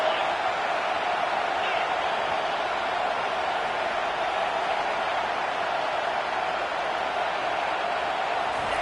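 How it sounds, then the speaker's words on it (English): Stadium crowd at a college football game roaring on third down, a dense, steady wall of cheering and noise that holds at full level throughout with no breaks. "Third down, and this crowd is tearing the lid off this place."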